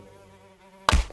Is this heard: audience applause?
no